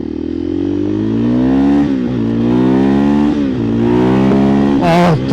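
A 2024 KTM EXC-F 500 TPI motorcycle with an FMF muffler accelerates hard through the gears, a loud, close engine roar climbing in pitch with brief dips at each shift.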